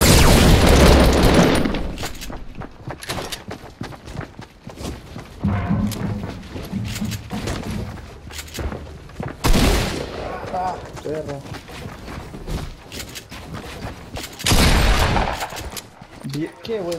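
Loud bursts of Fortnite gunfire, several booming shots and rapid volleys spread across the clip, with voices talking in between.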